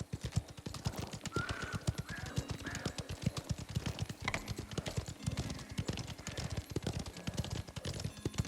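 Rapid, steady clip-clopping of video game horse hooves at a brisk trot in Mafia: The Old Country, loud and continuous throughout.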